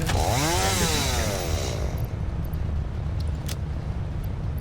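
A chainsaw in the video game Satisfactory revs up loudly with a rising whine, then settles into a steady close buzzing drone.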